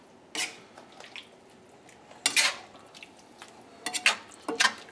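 Sausage and potatoes with dried thyme and parsley being mixed in a dish, heard as several separate clattering scrapes of a utensil against the dish with soft wet squishes between them, close and with no talking.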